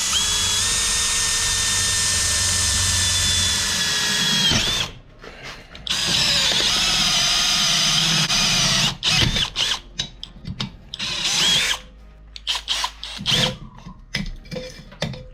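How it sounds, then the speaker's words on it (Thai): A PUMA PM-245BL 20V cordless drill whines steadily while a hole saw grinds into steel, then pauses and restarts in choppy bursts as the cutter bites and stalls. "เดี๋ยวเรามาดูเจาะนะครับลักษณะของโฮซอ ตัวนี้กันบ้างนะ"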